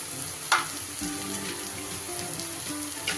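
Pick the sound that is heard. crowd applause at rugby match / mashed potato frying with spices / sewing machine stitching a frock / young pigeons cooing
mashed potato frying with spices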